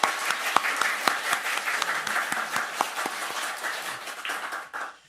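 A church congregation claps together in a dense burst of applause during a Sunday worship service, steady for several seconds before tapering off at the end.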